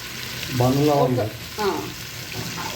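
Fish pieces fry in oil in a pan on a low flame with a soft, continuous sizzle, while someone speaks briefly over it in two short phrases.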